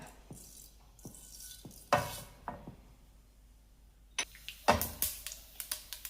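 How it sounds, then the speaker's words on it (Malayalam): Mustard seeds pop in a tablespoon of hot coconut oil in a heated pan, scattered sharp crackles and bursts that come closer together toward the end over quiet background. "കടുക് പൊട്ടാൻ തുടങ്ങി"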